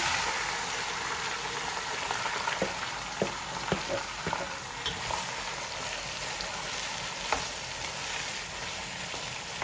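Chicken pieces fry in a pan with a constant quiet sizzle, broken by a few sharp clicks and scrapes of stirring in the middle.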